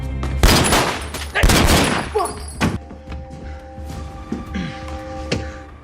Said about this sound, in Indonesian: Syukur saja peluru hanya mengikis jidat Loki.